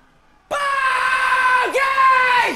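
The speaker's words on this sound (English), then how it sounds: "Screams of derision from the crowd." A loud, sustained high-pitched scream of derision breaks out suddenly from a crowd at the London Dungeon, holding steady with a brief pitch dip partway through before carrying on.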